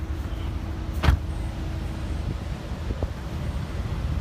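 The convertible roof of a V12 6.6-litre car retracts with a steady, even electric whir, one sharp click near the start and a couple of soft knocks later, with no talking.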